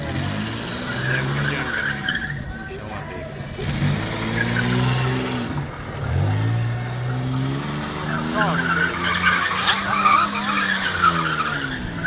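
An American car doing a tire-smoking burnout on its full-size rear tire at an outdoor car festival, with long squealing tire screeches and a revving engine, loud and close, while a voice talks over it.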